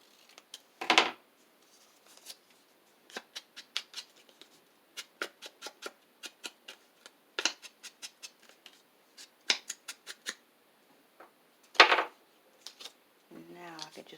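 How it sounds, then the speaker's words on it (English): Scissors snip through a piece of paper craft stock for a Valentine's project, with a few sharp cuts spread among irregular light clicks and paper handling close by. "let me cut some of this off"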